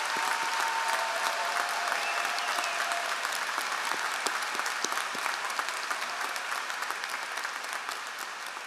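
A commencement audience applauds the graduating MBA class at a Carnegie Mellon Tepper School of Business ceremony, with steady, dense clapping from a large crowd that carries on evenly throughout before easing slightly at the end.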